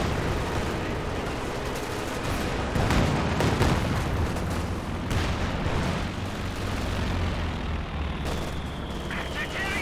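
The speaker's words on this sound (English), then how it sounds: "And got the Panzerwerfer barrage running on in." A Panzerwerfer rocket barrage in Company of Heroes 2 lands amid heavy battlefield rumble, with booming impacts and scattered gunfire forming a dense, continuous roar throughout.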